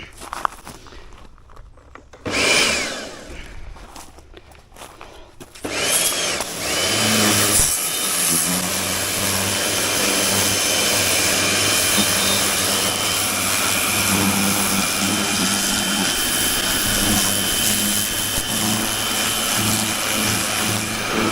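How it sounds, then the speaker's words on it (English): A Karcher pressure washer starts up and sprays a Husqvarna mower deck that has been taken off the mower, giving a loud, steady hissing roar with spray spattering against metal that runs on without pause. "I'm going to give this Husqvarna deck that's off the mower now a damn good jet washing"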